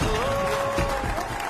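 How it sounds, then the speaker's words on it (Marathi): Large crowd of Dahi Handi festival teams in Magathane, Mumbai, clapping together to welcome the Chief Minister, a steady dense wash of applause with a sustained tone running over it. "एकदा जोरदार सगळ्या दहीहंडी पथकांनी टाळ्या वाजवून त्यांचं स्वागत करायचं आहे"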